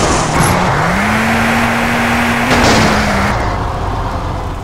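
Car engine in GTA San Andreas multiplayer (SAMP), a loud, close, steady motor drone with a brief dip and rise in pitch as it drives, continuous for several seconds with no talking.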